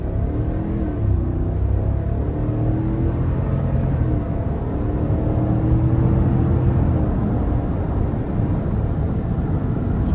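A 2025 GMC Yukon XL AT4 Ultimate SUV in sport mode accelerates moderately rather than flat out, a steady loud engine drone with rising tonal sweeps heard from inside the cabin, continuous for about ten seconds with no talking.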